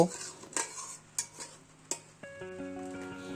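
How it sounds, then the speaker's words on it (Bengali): A spatula stirs whole cumin seeds in a cooking pan, making several sharp, close metallic knocks and clinks at irregular intervals, followed by a sustained ringing tone. "এখন খুন্তি দিয়ে একটু নাড়াচাড়া করে"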